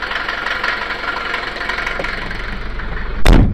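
A Mercedes 190 2.2 diesel engine idles steadily with a low, even rumble and faint knocking, ending in a brief sharp burst of noise.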